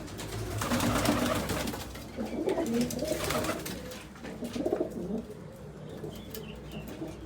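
Pet pigeons coo in soft, low rolling phrases, close by, with some chirps and a flutter of wings over a steady background hum.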